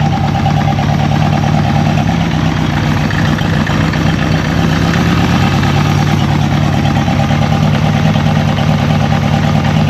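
A Honda CB350F motorcycle engine runs just after start-up, holding a loud, steady, close idle throughout with no talk.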